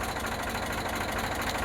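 An Eicher 368 tractor with a water-free Ricardo Super DI engine idling, a steady low rumbling drone with even rapid pulsing, close and constant, with no talking.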